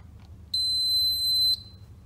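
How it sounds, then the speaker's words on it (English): A single high-pitched electronic beep from an electric radiator's digital control sounds steadily for about a second, clear and close against near silence. "One beep will sound."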